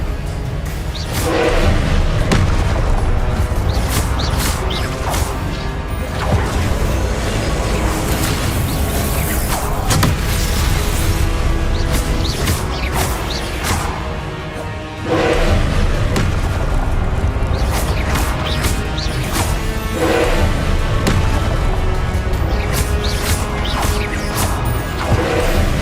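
Confringo and Expelliarmus spell blasts in Hogwarts Legacy, loud repeated booms, crashes and whooshes in a dense, continuous barrage of impacts with brief lulls.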